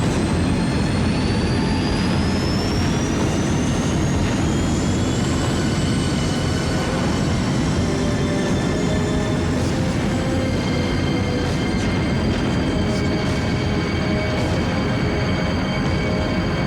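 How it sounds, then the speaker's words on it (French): A jet airliner roars loudly and steadily through a takeoff, a continuous close engine rumble with a rising whine layered over it, sustained for the whole stretch with no talk. "C'est bon, décollage réussi."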